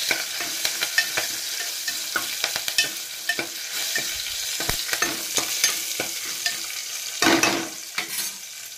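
Mustard seeds and cumin crackle and pop in hot oil for tempering, a dense run of sharp close pops over a steady sizzle, with a louder burst near the end.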